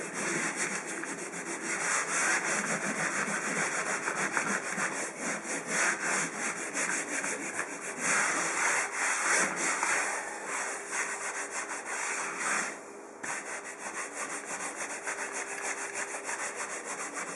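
Drywall patch edges are sanded smooth by hand, a steady, close, rasping scrub in long continuous strokes that barely pauses, with no talking.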